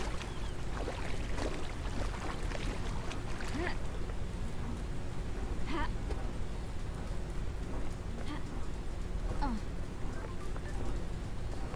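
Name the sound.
waterfall in video game Paradise Killer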